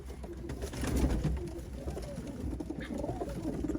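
Domestic tumbler pigeons cooing softly and repeatedly, low throaty calls rolling over a quiet background hum, close by and continuous.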